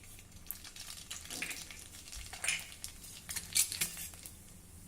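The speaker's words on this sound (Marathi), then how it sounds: "आता हे तेल गरम झालं की यामध्ये थोडं जिरं मोहरी घालूया" Cumin and mustard seeds crackle in hot oil, a faint sputtering sizzle dotted with sharp little pops and utensil clinks, with no one talking.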